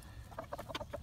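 Nagasaki and kikiriki cross chickens give a few soft, quick clucks and chirps nearby, faint against a low background hum.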